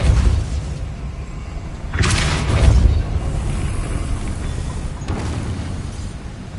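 A Depulso spell cast in Hogwarts Legacy gives a deep, booming blast with rumbling low end over a steady background drone, followed by a second, weaker burst a few seconds later.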